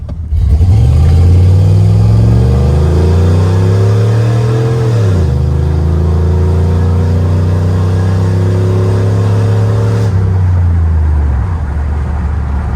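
A modified 1996 GMC K1500 Sierra 4x4 pickup, shifted into four-wheel drive, revs hard and accelerates; the loud engine note climbs, drops briefly at a gear change, then climbs again before easing off near the end.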